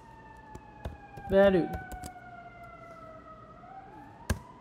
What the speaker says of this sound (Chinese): 大家有没有听到这个警车的声音啊？